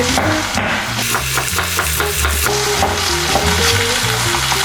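Rabbit pieces browning in oil in a pot for Sicilian sweet-and-sour rabbit give off a loud, steady sizzle and crackle, close up, with faint scrapes and a low hum beneath and no talking.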